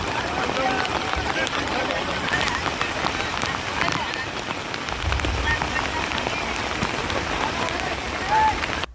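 Heavy monsoon downpour hisses continuously and densely, close and loud, with pattering drops and water rushing throughout, no voices on top.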